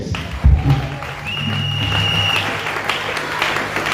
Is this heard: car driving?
no